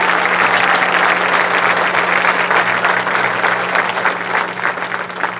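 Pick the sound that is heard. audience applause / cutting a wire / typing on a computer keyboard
audience applause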